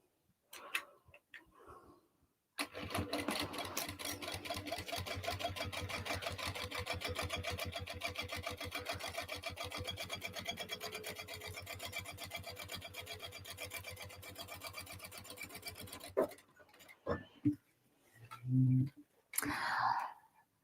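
A sewing machine stitches a seam on an Acacia crossbody bag, running in a steady rapid mechanical rhythm for about fourteen seconds before stopping, followed by a few faint, scattered handling sounds.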